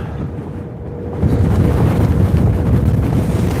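Wind buffets the microphone during a Onewheel ride in Aurora, Colorado, a loud low rumbling roar that swells stronger after the first second and stays constant.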